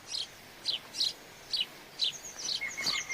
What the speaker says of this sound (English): Tree sparrows lodge in the eagle's bulky nest.